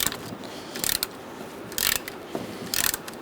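A ratchet wrench clicks in short bursts while loosening a bolt on a Kia Soul radiator mount, with a square nut held by locking pliers; a few quick ratcheting runs, close and fairly quiet.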